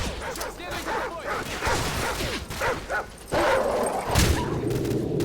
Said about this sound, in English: Dogs in the tall grass.